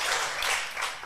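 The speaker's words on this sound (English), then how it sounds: "let's applaud" An audience at a live restaurant talk event applauds with a thick, sustained wash of clapping that swells and eases slightly across the moment.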